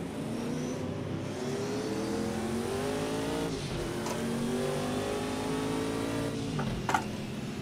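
A race car engine in Project Cars 2, played in VR, drones steadily and climbs in pitch as it accelerates. Its tone rises in repeated sweeps through the gears, close and continuous, with no talk.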